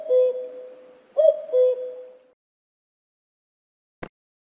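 A cuckoo calls a few times with soft, low, hooting notes in a short sequence, followed by silence and a brief click.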